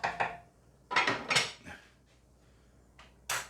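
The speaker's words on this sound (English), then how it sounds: "And now we're going to go on to put the lid on." A lid goes onto a Russell Hobbs multi cooker with a few clattering knocks and scrapes of metal and plastic, sharp close hits spaced by brief pauses.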